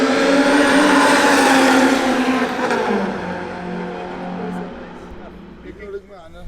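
A 1.8T big-turbo Mk2 Golf with no exhaust fitted at a drag racing event, its loud raw engine roaring close by, then fading as the revs drop and it moves off.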